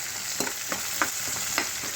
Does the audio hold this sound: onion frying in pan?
yes